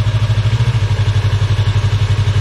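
A motorcycle engine idles steadily without revving during a slow clutch-control riding lesson, a loud, close, rhythmic low thrum with even pulses throughout.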